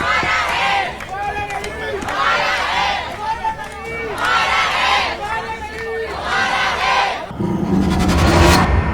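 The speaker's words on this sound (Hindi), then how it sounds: "जंतर मंतर पर डॉग लवर्स की भारी भीड़ जुटी हुई थी, जो आवारा नहीं हमारा है के नारे लगा रहे थे" Large crowd of dog lovers rhythmically chanting slogans in loud, repeated waves at a protest at Jantar Mantar, New Delhi, with a burst of noisier commotion near the end.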